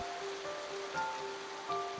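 Steady rain patters on a surface, a soft, even wash of drops with a faint tonal hum running underneath, brief and continuous, with no voices.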